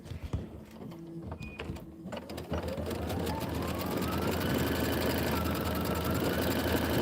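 An embroidery sewing machine stitches a tack-down line on a sun hat and bluebird design. A steady mechanical whir climbs in pitch and settles into a continuous, close, buzzing run of stitches.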